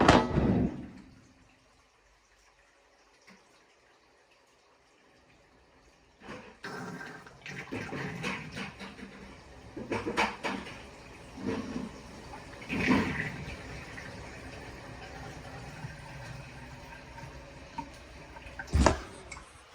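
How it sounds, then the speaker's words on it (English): Water is poured out of an orange bucket in a basement, a splashing gush at the start followed by quieter intermittent clunks, drips and handling noises. "Emptying the orange bucket."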